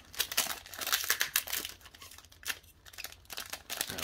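Modern Horizons 2 booster pack wrapper being torn open: close, crinkly foil rustling and tearing in quick irregular bursts, fairly quiet, with no voices.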